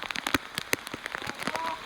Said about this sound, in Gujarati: હાલો કેવું વરસાદ આવ્યો છે